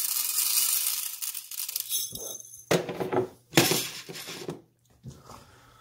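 Dry popcorn kernels poured from an old-style glass jar into a pot on the stove, a rushing rattling stream broken into several short bursts with brief pauses between pours.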